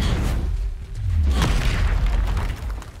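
A Confringo fire spell bursts in Hogwarts Legacy with a deep, rumbling boom that swells after a brief pause and rolls on as a low, sustained roar for several seconds.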